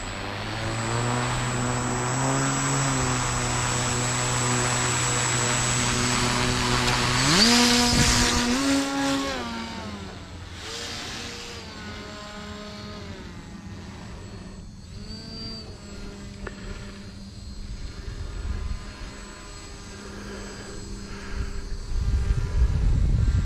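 Hobby King paramotor V2 engine runs loud and close with a buzzing propeller drone, revving up sharply, then settling into a steady, slightly wavering idle.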